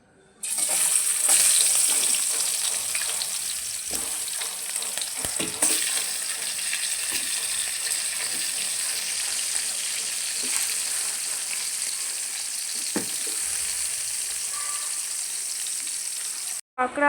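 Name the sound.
crabs frying in hot mustard oil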